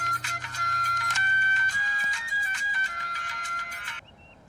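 A phone rings on speakerphone with a loud, electronic, sustained melodic ringtone that warbles in pitch for about four seconds and then cuts off abruptly, leaving quiet background.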